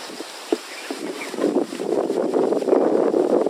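Wind sweeps through a wild forest campsite at night, a soft rush that swells into a steady, louder gusting roar after a quiet start, with no voices.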